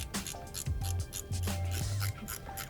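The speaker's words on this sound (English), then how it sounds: "Now to get it a little bit tighter, I'm going to use a 1/4 inch ratchet, extension," A 1/4 inch ratchet with an extension and hex head tightens a diverter valve spacer, giving short raspy clicking strokes in a repeating back-and-forth rhythm, close and fairly quiet.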